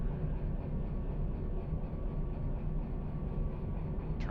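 A diesel locomotive engine in the Derail Valley train simulator rumbles steadily after firing up, a low, even drone that holds throughout, with a brief high whine near the end.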